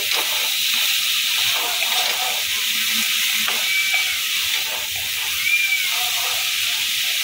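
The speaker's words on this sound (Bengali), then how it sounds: "আলুর সাথে আর তেলের সাথে ভালো করে সব মিশিয়ে নেব।" Potatoes and kulekhara greens being stirred in oil in a pan, a steady soft sizzle with faint scraping, close and continuous, with no talk.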